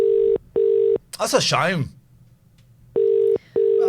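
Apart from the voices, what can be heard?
telephone call ringing out, unanswered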